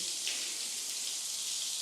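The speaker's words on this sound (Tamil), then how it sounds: "இந்த மாதிரி ஒரு இடம் பண்ணுறோம், நம்ம நினச்சா மழை வரணும் அப்படிங்கிற மாதிரி" Artificial rain falls indoors inside a house, a dense and even hiss of water that pours steadily and continuously with no talking over it.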